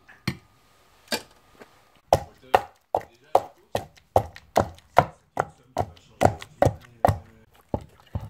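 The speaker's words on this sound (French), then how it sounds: "on va battre le gombo ramolli avec le piment sec" Softened okra being beaten with dried chili for an Abidji kreingéssi sauce: a steady run of about fifteen sharp, close thuds, sparse at first and then settling into an even, quick rhythm, with no talking.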